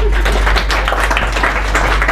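Audience clapping at a career guidance seminar, a loud, close patter of many hands that runs steadily over a low electrical hum.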